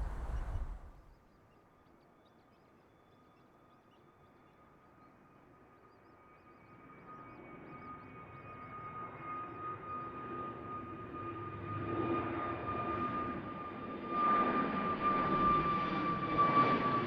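An EasyJet Airbus A320neo airliner passes near Amsterdam Schiphol, a distant engine roar slowly swelling from near silence into a steady, loud whine over about fifteen seconds.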